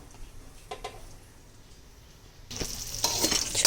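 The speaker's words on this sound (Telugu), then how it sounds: "పల్లీలు కూడా కొంచెం రెడ్డిష్ కలర్ వచ్చేంతసేపు వేయించుకోవాలి." Peanuts fry in a pan for a snack mix: a few faint clicks of stirring are heard first, then a louder bright sizzle rises and holds as more heat or movement sets in.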